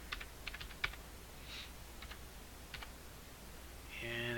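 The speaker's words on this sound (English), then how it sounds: "all we have to do is type the name" A name being typed on a computer keyboard, with a few short clusters of light key clicks spaced out over a steady background hum, followed by a rising tonal sound at the end.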